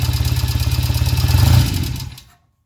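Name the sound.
1975 Norton Commando Mk3 motorcycle engine running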